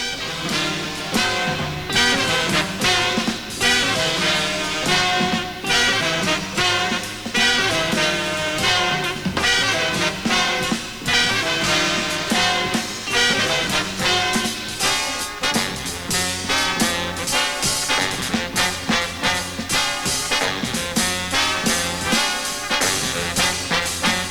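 Dense, continuous jazz orchestra music, with brass and saxophones playing together over a rhythm section, loud and full throughout.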